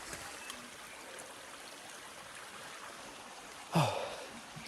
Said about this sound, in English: there's a river. A stream, I should say. It's not really much of a river